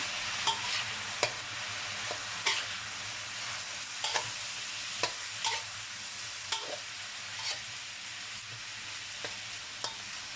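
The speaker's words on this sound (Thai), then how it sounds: "เราจะใส่เห็ดลงไปก่อนนะคะเห็ดนะคะเขาจะสุกยากหน่อยนะคะ ลงไปผัดก่อนนะคะ" Champignon mushrooms stir-fry in a hot pan for minced pork with holy basil, giving a steady sizzle punctuated by sharp, regular spatula scrapes and taps about every second, close and clear with no talking.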